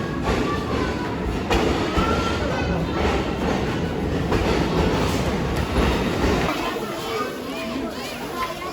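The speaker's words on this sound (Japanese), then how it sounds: "電車が来ました。" A train rumbles and clatters along the tracks in a busy station in Yangon, Myanmar, with people talking and children's voices throughout the steady noise.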